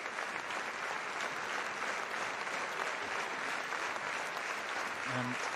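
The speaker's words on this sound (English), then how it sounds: "applause all around the stadium" Sustained applause from a stadium crowd at a France v Scotland women's rugby match for an injured player, a broad, even wash of clapping that carries on throughout.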